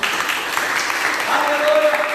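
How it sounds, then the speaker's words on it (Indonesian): A church congregation at a Sunday worship service applauds in a steady, dense wash of clapping that fills the whole moment, with a faint tone running underneath. "Mari kita tepuk tangan sekali lagi buat Tuhan"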